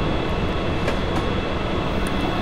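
An EM1 electric locomotive runs along track in Train Simulator 2015 on the Manchester London Road to Sheffield Victoria route, giving a steady, loud rumble and hum of rail travel with no break or voice.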